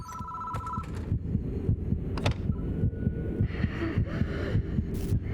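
An electronic phone ring in the horror game Death Mark chirps at the start over a low, steady throbbing pulse that continues through a dim, murky ambience.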